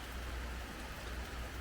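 Steady rain falls at Lake Maninjau in Indonesia, a dense, even hiss of drops on surfaces that fills the whole moment at moderate volume, with no voices over it.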